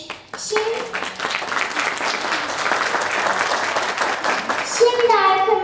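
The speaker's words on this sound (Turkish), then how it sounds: "İstediğimiz çok çok alkış, birazcık da anlayış." An audience at a primary school reading festival ceremony bursts into sustained applause, dense clapping that swells and stays strong, with children's voices calling out over it near the end.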